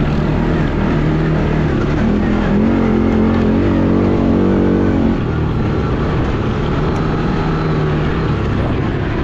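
A 2-stroke 250 dirt bike with a broken clutch lever runs fast on a forest trail, a loud continuous engine whine rising and holding before settling into a steady rough drone, heard close throughout.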